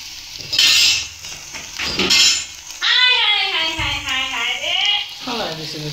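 A pan of food is stirred and scraped while cooking for sehri; the meal includes dal, fried shutki (dried fish), chicken and red spinach. Metal utensil clinks and scrapes come in short bursts, with voices talking over and between them.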